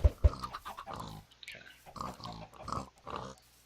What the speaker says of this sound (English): Okay, you pigs. So loud and obnoxious.